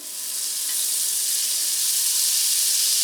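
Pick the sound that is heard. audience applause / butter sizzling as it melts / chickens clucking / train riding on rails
butter sizzling as it melts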